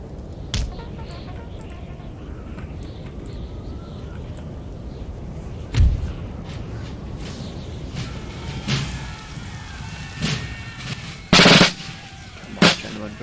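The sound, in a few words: artillery cannon fire in Napoleon Total War video game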